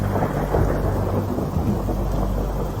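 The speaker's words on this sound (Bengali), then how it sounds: "বাইরে তখনও এক নাগাড়ে বৃষ্টি হয়েই চলেছে।" A rain and thunder sound effect in an audio drama: heavy, constant rainfall with deep rolling thunder rumbling underneath, loud and continuous with no voices.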